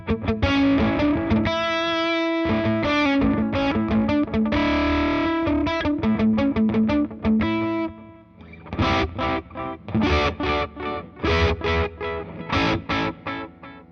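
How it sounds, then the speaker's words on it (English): Electric guitar played through a delay pedal into a distortion pedal, with gritty sustained chords whose repeats smear and stack, then choppier strummed bursts with uneven, jumbled echoes; loud and continuous, no talking. "The distortion actually makes the level of the delays do kind of funky things."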